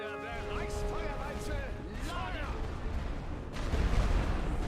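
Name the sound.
artillery fire in video game The Great War: Western Front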